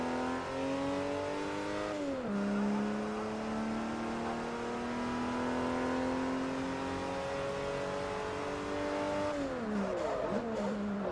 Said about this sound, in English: A twin-turbo V12 from Mercedes.